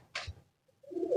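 Kamgar breed pigeon, a breeding bird, giving a short low coo followed by louder throaty cooing toward the end, close by, with a brief bright rustle early on.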